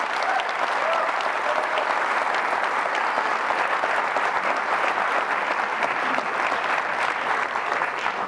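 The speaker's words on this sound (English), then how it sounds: "Let's give them a round of applause." An audience at a fall college convocation ceremony applauds in a sustained, even wash of many hands clapping, steady and fairly loud for the whole stretch without voices on top.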